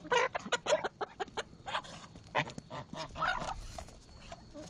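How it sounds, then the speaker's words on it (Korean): Geese honking and calling in a loose, overlapping chorus at close range, fed in a pen alongside chickens, with short bursts and a few longer calls. "너무나도 잘 먹는 착한 거위들."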